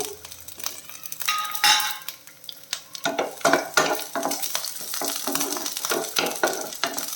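Cut garlic, small shallots and a green chilli drop into hot oil, starting a loud, close sizzle after a quieter opening. Quick rhythmic spatula scrapes and clinks against the pan follow.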